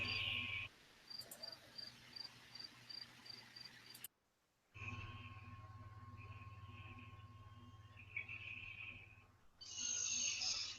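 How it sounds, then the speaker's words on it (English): Crickets chirp faintly in a thin, steady trill, heard over a lobby voice chat line along with hum and brief dropouts, with no talking in this stretch. "I can like literally hear crickets. Like I swear, it sounds just like real crickets."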